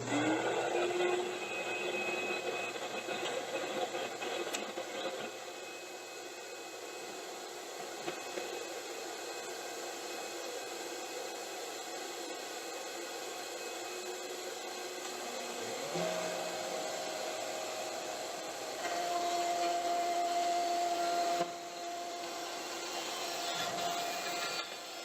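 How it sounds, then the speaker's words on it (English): A shop vacuum runs beside a router table in a woodworking shop, giving a continuous airy whine and hiss that holds steady for the whole stretch, with slight pitch shifts partway through and no talking. "Vacuum on."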